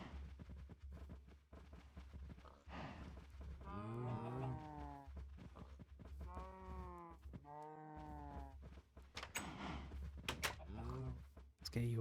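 Minecraft cows in a following herd, several low, drawn-out moos overlapping one another amid game sounds and a speaking voice.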